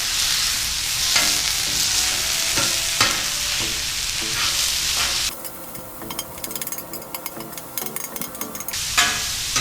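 Ground pork sizzles steadily in a hot pan while being stirred and broken up with a utensil, a dense crackle that thins out partway through, with occasional scraping knocks and no talking.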